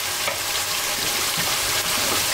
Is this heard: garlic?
yes